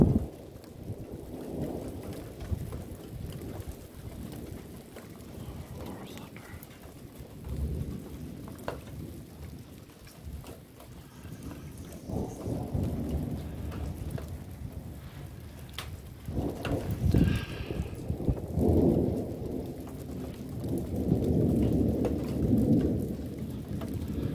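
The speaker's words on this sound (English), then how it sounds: "Keep hearing that thunder in the distance, and starting to sound like it's a little more overhead." Steady rain pours through a thunderstorm while low rumbles of thunder roll in from a distance and swell closer, with no voices.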